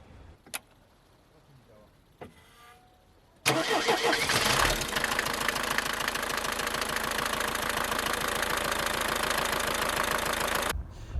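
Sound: four-cylinder naturally aspirated diesel engine

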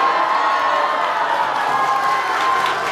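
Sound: audience applause at a comedy show

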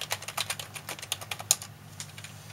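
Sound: typing on a computer keyboard

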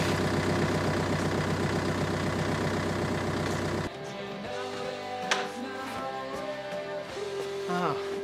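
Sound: car engine idling

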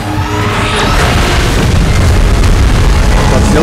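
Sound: beam blast explosion in a Godzilla video game

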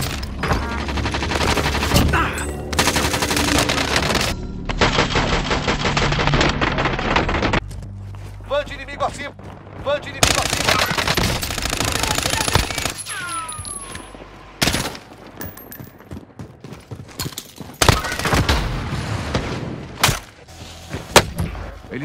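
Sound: gunfire from the video game Call of Duty

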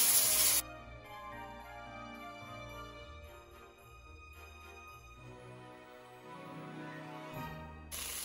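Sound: pressure cooker hissing while cooking rice

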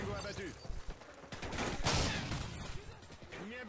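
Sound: shotgun shots in the video game Call of Duty MW3

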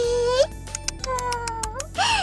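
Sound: black cat meowing

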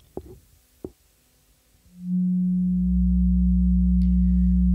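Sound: resonant filter sine waves from synthesizer

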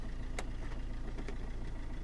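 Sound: Fiat Linea car engine idling

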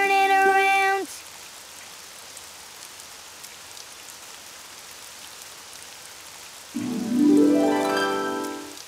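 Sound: rain

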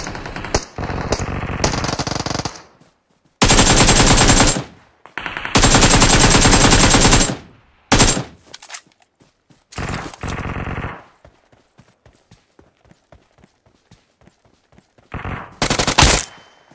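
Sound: gunfire from a video game

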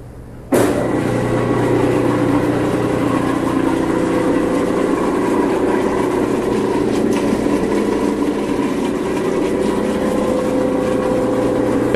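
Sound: Viking positive displacement pump running

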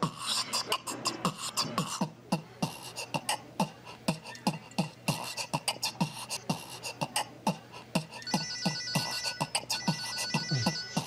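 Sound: phone ringtone ringing

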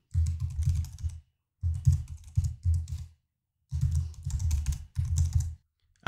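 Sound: typing email address on computer keyboard

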